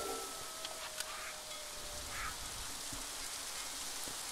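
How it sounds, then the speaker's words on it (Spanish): Rain falls in the dark, always-wet world of the New World video game, a soft steady patter with faint scattered drips, quiet and heard alone. "Y acá siempre llueve, así, siempre oscuro y lluvia."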